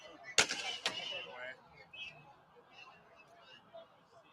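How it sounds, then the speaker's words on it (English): Two sharp, loud cracks in quick succession like gunshots, followed by quieter outdoor background noise and faint chatter. "That sounds like gunshots, but that's just me."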